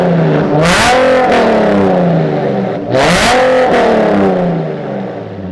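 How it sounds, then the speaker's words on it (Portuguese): A Ferrari F355 Berlinetta's engine revving hard twice, each blip climbing to a loud high-pitched wail before falling back to a throbbing idle, very close and with no talk over it. "Ó, eu vou acelerar."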